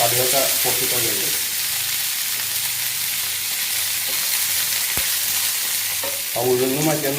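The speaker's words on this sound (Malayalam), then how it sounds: "കടുകൊക്കെ പൊട്ടിക്കൊണ്ടുണ്ട്." Mustard seeds splutter in hot oil with a dense, loud frying hiss, close up, with scattered pops over it and a voice speaking briefly at the start and end.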